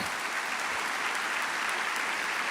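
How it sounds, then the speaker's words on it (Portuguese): A church congregation of young people applauds at a Brazilian evangelical service, with dense, steady clapping filling the space without a break. "Vamos dar um aplauso."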